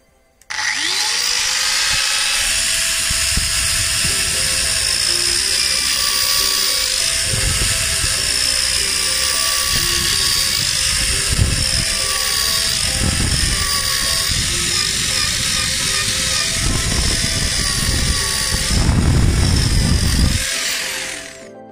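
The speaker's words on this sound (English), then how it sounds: "So here's a little cutting test using the original tool. A few lines and grooves." A multi cutter fitted with a 3-inch circular cutting disc whines steadily and loudly while cutting lines and grooves, its pitch wavering as the load shifts and rising in a heavier burst near the end, with no voices over it.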